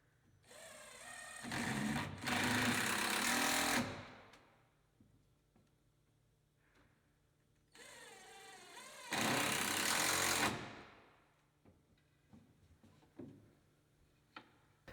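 Power driver running zinc screws through a gazebo screen header into its rail, two loud sustained whirring bursts of about two seconds each, separated by quiet pauses with light handling clicks.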